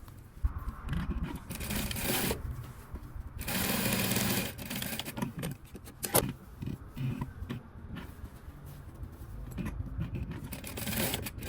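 A sewing machine stitches a zipper in loud, close bursts of rapid whirring, stopping and starting irregularly, with fabric rustling and handling noises between runs.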